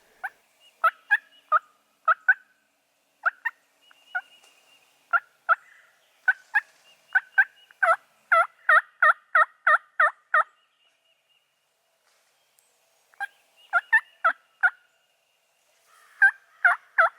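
Wild turkeys gobble repeatedly in a Georgia field during a spring hunt, bursts of rattling calls coming in quick runs and clusters at a moderate distance, with quiet gaps between volleys and no talk.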